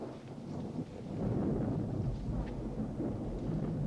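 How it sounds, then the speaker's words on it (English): Low, rumbling thunder rolls faintly in the distance outside, a muffled continuous storm sound with no voices, from a film scene. "You can hear the faint thunderstorm outside."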